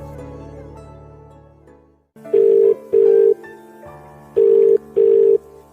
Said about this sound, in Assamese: তেওঁলোকে ফোন এটা কৰিছে।